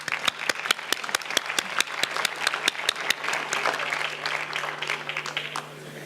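Audience applause at an award ceremony on youth empowerment, a steady wash of many hands clapping with sharp individual claps standing out, sustained for several seconds without talk.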